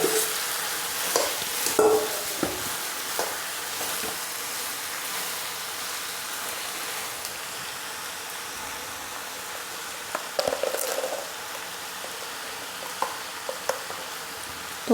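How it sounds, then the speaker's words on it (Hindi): Potatoes go into a pan where tomatoes and peas are already frying, making a steady close sizzle with scattered stirring scrapes and clatters of a spoon against the pan. "तो टमाटर और मटर तो हमारी फ्राई हो गई है और अब डाल देंगे इसमें आलू"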